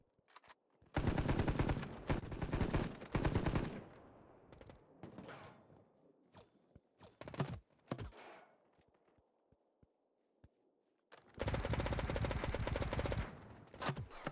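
Sniper and automatic gunfire in the mobile shooter Battle Prime during a duos tournament match, with two long loud bursts of rapid shots and scattered single cracks and footsteps between them.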